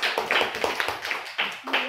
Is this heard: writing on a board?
no